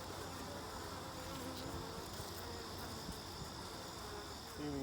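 Worker bees in an open beehive give off a steady, dense buzzing hum close by, faint in level but continuous, with no speech.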